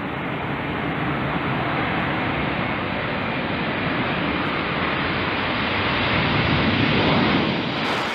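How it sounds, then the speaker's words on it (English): Boeing bomber from the 1950s in Air Force and NASA service, its jet engines giving a steady, loud, broadband roar that holds constant throughout and swells slightly near the end, with no talking. "It's a big, powerful bomber that's been around since the 1950s."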